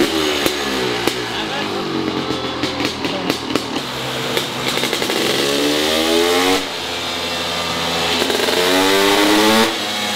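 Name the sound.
motor engine starting and revving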